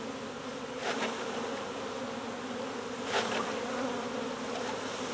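Honey bees buzz steadily around a hive as a package is installed, a dense continuous drone from many insects close by, swelling slightly as individual bees pass near.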